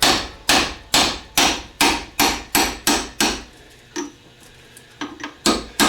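A hammer strikes a drive pin to knock a CV joint off a Mercedes 300D axle, about a dozen sharp, close metallic blows in a steady rhythm, a brief pause, then a few lighter taps and two more solid hits.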